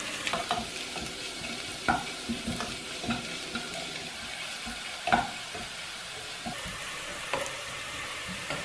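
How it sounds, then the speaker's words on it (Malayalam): Onions sautéing in a pan for chicken curry, a steady close sizzle with scattered stirring scrapes and clinks at irregular intervals throughout. "സവോളയുടെ നിറം ലൈറ്റ് ബ്രൗൺ ആകുന്നത് വരെ വഴറ്റാം"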